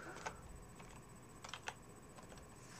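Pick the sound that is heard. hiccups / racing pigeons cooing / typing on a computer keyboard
typing on a computer keyboard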